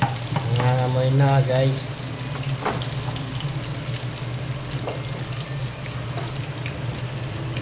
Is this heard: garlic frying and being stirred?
yes